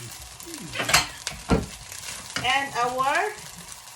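Fried rice with soy sauce and spring onion is stirred in a hot pan at the end of cooking, with soft scraping and sizzling under a speaking voice.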